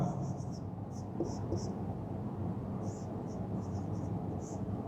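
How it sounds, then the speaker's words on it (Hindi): Marker or chalk strokes on a board come in short, scratchy bursts of writing, grouped in quick clusters with pauses, over a steady low room hum, fairly quiet. "मैं क्वेश्चन लिख रहा हूं"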